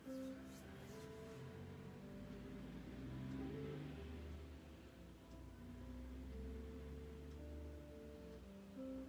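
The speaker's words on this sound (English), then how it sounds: "so much traffic right now." Loud traffic passes continuously outside, cars accelerating and revving with a steady mid-range engine drone that swells and eases over several seconds, no talking.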